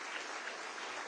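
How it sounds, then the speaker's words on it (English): An audience at a Texas congressional district debate applauds in a standing ovation, a short burst of steady, even crowd clapping heard alone at moderate level. "I think that deserves a standing round of applause."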